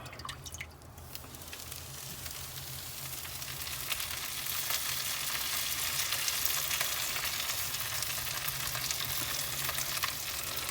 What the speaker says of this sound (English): That's actually the mop dripping down on top of my piece of soapstone I've got in here.